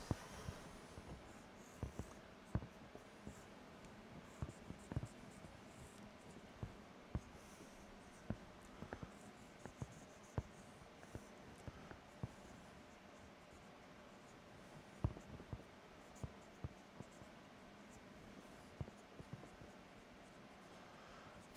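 A pen or marker scratches steadily across a writing surface while circuit diagrams are drawn, faint and close, with a run of small ticks and strokes and no talking.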